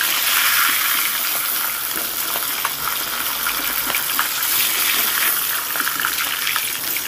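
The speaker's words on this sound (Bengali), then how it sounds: "এই 2 পিস মাথাকে সুন্দর করে ভেজে নিলাম।" Two halves of a katla fish head sizzle in hot oil in a home kitchen, a continuous loud crackling hiss up close with scattered pops and no speech.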